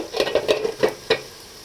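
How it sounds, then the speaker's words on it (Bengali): Spice masala is stirred and scraped around a hot pan: about six quick, uneven spatula strokes over a soft sizzle, close up, then a brief quieter tail. "এবার মশলাটা আমি কষিয়ে নেব।"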